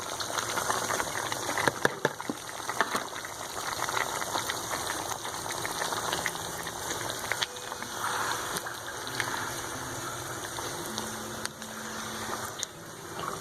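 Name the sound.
chopped onions frying in a karahi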